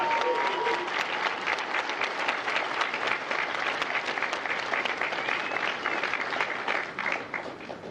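An audience at a Marine Corps recruit graduation in San Diego applauds a retired Marine veteran, a dense, sustained wash of clapping that holds steady for several seconds before easing slightly at the end.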